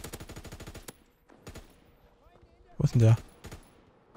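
Machine-gun fire from Call of Duty WW2 multiplayer rattles out in a rapid close burst, followed by scattered single shots and a louder blast, while a player talks in German between the shots.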